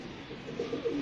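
Large pigeons cooing up above, a soft, close run of low coos over faint background noise.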